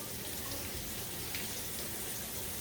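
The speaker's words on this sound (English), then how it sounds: "I'm gonna go wash my hands" A sink tap runs in a steady, continuous stream of water, close and even throughout, with no voices.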